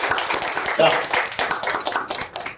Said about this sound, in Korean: 박수를 쳐주시면